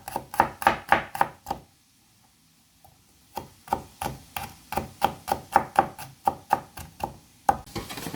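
A knife chops about six heads' worth of garlic cloves on a cutting board, giving quick, sharp, evenly spaced close knocks in two bursts with a short pause between them.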